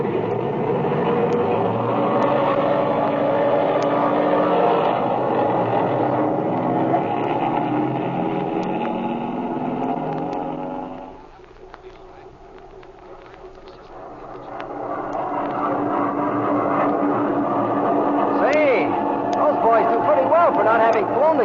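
A 1937 radio-drama airplane engine effect for takeoff: a steady, rough droning roar that fades briefly midway, then swells back to full strength, with voices over parts of it.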